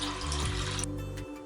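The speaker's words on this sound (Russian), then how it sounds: "Заливаю водой и ставлю на плиту." Water runs from a tap into a pot holding 500 grams of beans, a steady close rushing fill that shifts in tone as the pot fills and then stops near the end, with no talk.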